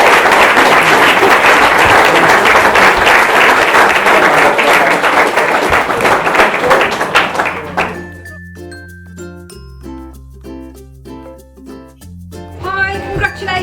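Wedding guests applaud loudly for several seconds after a toast to the bride and groom, the dense clapping fading out as glasses clink and a tinkling chime or music takes over.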